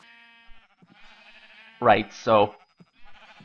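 Two loud, wavering bleats from a sheep in Minecraft sound close together near the middle, with a voice speaking briefly at the start and soft game sounds around them.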